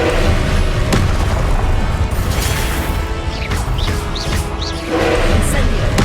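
Confringo fire-blast spell detonating in Hogwarts Legacy, a loud booming crash with rumbling debris and mechanical clatter filling the whole stretch, close and dense, with brief whistling zips of spell effects midway.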